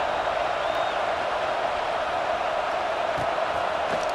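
A stadium crowd roars steadily in the College Football 26 video game during a Notre Dame versus Oregon kickoff, a dense, constant wash of cheering at an even level.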